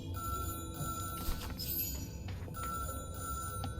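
In Syberia, an old telephone's bell rings in repeated metallic bursts separated by brief gaps, clear and fairly close against a low background hum.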